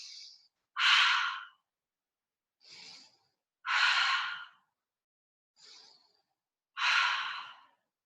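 Slow, deliberate breathing during a seated yoga hold: three paired cycles of a soft short inhale followed by a longer, louder airy exhale, spaced evenly with silence between, close and intimate.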